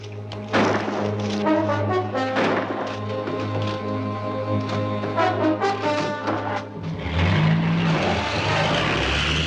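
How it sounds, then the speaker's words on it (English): A car engine in a 1952 film serial starts with a thump, then revs and roars loudly and steadily as the vehicle takes off, with a louder surge near the end. "They're taking off in a car."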